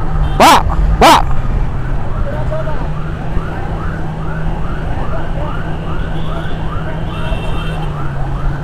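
An ambulance siren wails steadily close by, its pitch sweeping in repeating cycles over engine rumble, after two short sharp horn-like blasts at the start.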